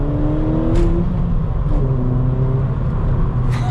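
Ford ST engine revving hard as the car accelerates in second gear, a steady loud drone with rising harmonic sweeps and a brief dip around a gear change, heard from inside the cabin.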